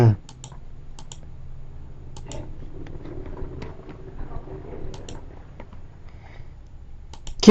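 A computer mouse clicks during video editing, with a few sharp, separate clicks spread across the stretch over a quiet, low room background and faint murmuring.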